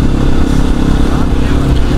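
Motorcycles pass on a highway with a dense, loud, continuous engine roar and road rumble, heard close up from traffic on the road, with no clear talk.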